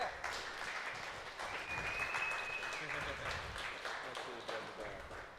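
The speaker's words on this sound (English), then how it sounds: "So a round of applause for them." Crowd applause at an international drone racing event day, steady clapping sustained throughout, fairly distant and mixed with background voices and a brief whistle-like tone.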